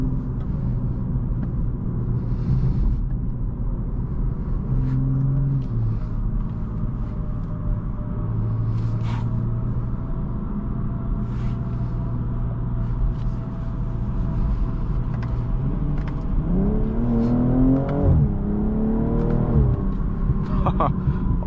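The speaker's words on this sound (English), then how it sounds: "Awesome exhaust." A 2025 BMW M240i xDrive engine rumbles steadily, then revs up with rising pitch near the end while accelerating, a deep exhaust note close by.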